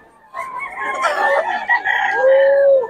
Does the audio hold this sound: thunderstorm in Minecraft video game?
no